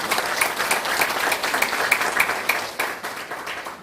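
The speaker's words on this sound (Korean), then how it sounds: "우리 박수로 한번 감사합니다" A church congregation applauding during a Sunday service, a steady patter of many hands clapping at moderate loudness for a few seconds, with faint room echo.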